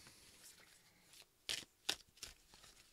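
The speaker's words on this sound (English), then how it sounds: "I'm going to shuffle these up." Baseball cards being shuffled by hand, a few quick crisp riffling bursts close up, quiet and brief, with no talk over them.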